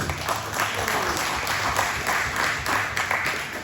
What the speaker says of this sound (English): applause for Blake being here.